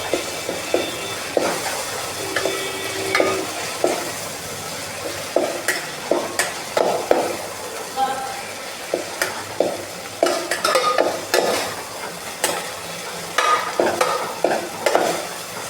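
Poha cooks in a hot pan while a spoon stirs it in quick, repeated scraping strokes over a constant close sizzle, with no one talking.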